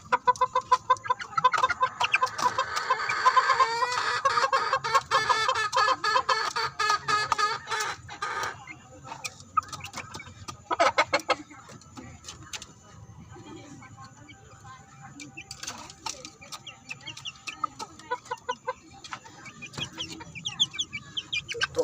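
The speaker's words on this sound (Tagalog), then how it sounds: "Gutom na iba nating manok. Ayan, mayak na sila." Hungry pet chickens cluck and chatter in a dense, busy flock just before feeding, loudest early on and then thinning into scattered, intermittent clucks.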